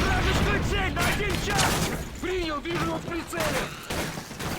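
Dragunov sniper rifle fire in Modern Warfare 3 (2011) during a snipers-only village survival wave, sharp shots cracking irregularly over busy game noise while someone talks throughout.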